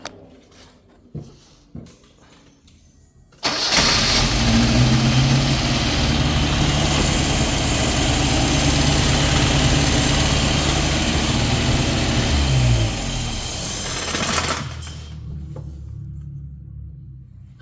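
A Datsun engine cranks and catches after a few clicks, then settles into a loud, steady, close idle for about ten seconds before dropping slightly in pitch and shutting off.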